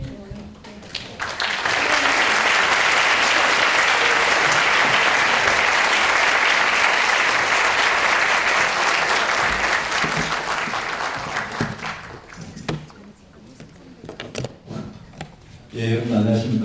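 A lecture hall audience at a KAIST special lecture gives loud, sustained applause welcoming a politician, swelling quickly and holding strong before tapering into scattered claps and room noise.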